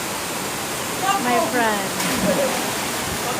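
The Pedra do Altar waterfall in Barra de Santana, Paraíba, Brazil, a constant broadband rush of falling water heard nearby, with people talking over it partway through.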